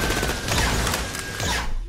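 Turrets firing in the video game Borderlands The Pre-Sequel, a dense continuous burst of rapid gunfire with loud layered shots filling the whole stretch.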